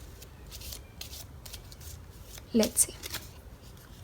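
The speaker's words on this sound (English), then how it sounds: "I'm also going to shuffle on camera." Tarot cards shuffled by hand on camera, a series of quick riffling flutters and a couple of sharper card snaps, with a voice speaking briefly.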